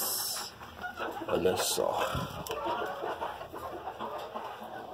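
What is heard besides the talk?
chickens clucking, hens and a Nagasaki bantam rooster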